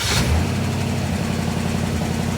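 A vintage Ford 292 Y-block V8 fitted with a Vintage Air alternator bracket catches from the starter and settles into a loud, close, lumpy idle with a steady rhythmic pulse.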